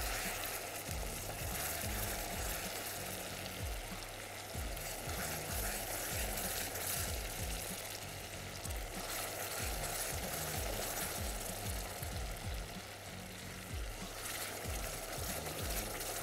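Cream poured little by little into hot caramel of butter and sugar, hissing and bubbling in a loud, continuous close sizzle that barely lets up, no voices.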